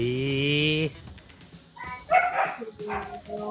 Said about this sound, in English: Whose dog was that barking?